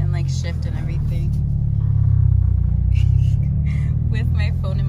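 Toyota 86 car driving and shifting, a steady close engine rumble from inside the cabin that swells and eases with gear changes, with a person talking over it.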